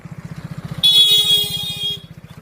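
A motorbike passes close by with a rhythmic, pulsing engine throb and a loud sustained horn blast of about a second in the middle.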